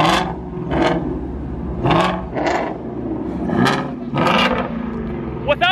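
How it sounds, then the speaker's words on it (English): Ford Shelby Mustangs with flat-plane crank engines idle close by, with a steady low rumble broken by several loud, swelling bursts like blips of the throttle, and faint voices underneath. "A lot of Shelbys sitting here idling."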